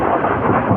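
Heavy rain pours down in a dense, loud, continuous hiss, with a deep rumbling undertone like rolling thunder running through the whole short stretch.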